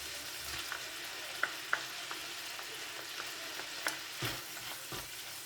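Chopped onions sizzle in a hot pan with a steady, soft frying hiss, broken by a few sharp scrapes and knocks as a utensil stirs them, close and unaccompanied by talk.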